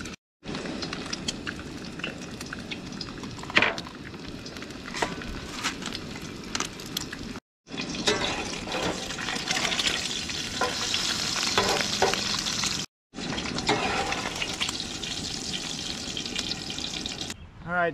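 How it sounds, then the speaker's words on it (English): An egg frying in hot oil in a cast-iron skillet at a campsite, a steady close crackling sizzle that runs in three stretches split by brief silent cuts, with occasional louder pops and a little background clatter. "while we have the skillet hot with the oil,"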